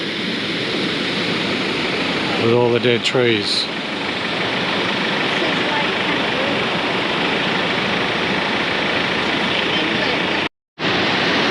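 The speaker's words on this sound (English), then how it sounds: "So they're letting the water into the lake" Water surges through the Pamamaroo inlet regulator into a lake near Broken Hill, a loud, continuous roar of rushing flow filling the scene close by, with a person talking briefly over it and a short cut near the end.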